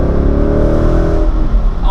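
A 2018 Ford Mustang fitted with a Corsa Sport exhaust revs loudly up close, a steady throaty engine note that rises and holds before easing off near the end, with no talking.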